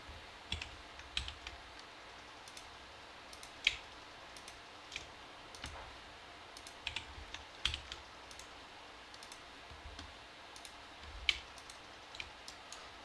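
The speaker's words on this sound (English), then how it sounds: "I'm just holding shift and left clicking right here." A computer mouse is left-clicked repeatedly while shift is held, giving sharp, faint, close clicks at an irregular rhythm against quiet room tone.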